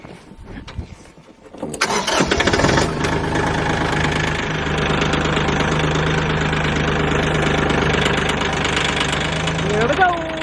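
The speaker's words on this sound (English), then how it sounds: "Good thing there's plenty of gas in the tractor." A homestead tractor's engine cranks and catches, then settles into a steady, loud idle with a knocking rumble that runs to the end.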